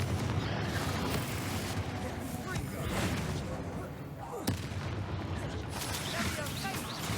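Combat in the Hogwarts Legacy video game as the Bombardo explosive spell is cast, a dense, continuous wash of blasts, crackling and rumbling effects with one sharp impact standing out partway through.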